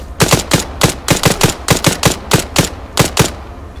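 Gunfire in Arma 3, a loud close run of sharp single and paired shots at a quick uneven rhythm, about fifteen reports with brief gaps, no talk over it.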